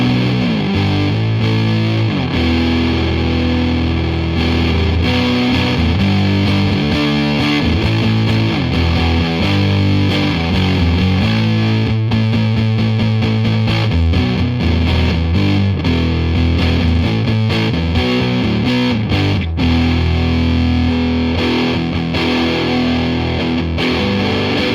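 An electric guitar played through a PastFx Patriarch Fuzz pedal, a Civil War Big Muff variant, into an amplifier set low gives thick, saturated fuzz chords and riffs with long sustain, loud and continuous throughout, with no voices.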